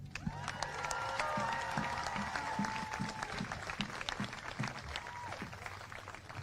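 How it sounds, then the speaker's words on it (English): Warm applause and scattered cheering from a crowd at an ICE protest in Maine, honoring Faisal Khan, rising then tapering off, fairly distant, with a sustained whistle-like tone and some voices mixed in. "can you give a warm round of applause to Faisal Khan"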